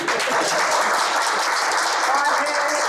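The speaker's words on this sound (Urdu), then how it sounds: "تو ہمارے لیے کچھ تالیاں ہو جائیں." An audience at a literary conversation event applauds steadily, a dense, even wash of clapping filling the room throughout.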